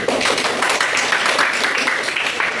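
Applause for a student in a classroom, a steady dense patter of clapping hands from a group that stays at an even level throughout.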